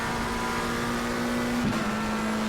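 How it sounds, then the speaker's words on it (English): GT3 race cars at Monza in a racing game, a steady engine drone with a strong sustained tone and a brief pitch shift as the car shifts or another passes, loud and continuous. "Now coming out of Ascari, Ricky Chiesa has slipstream"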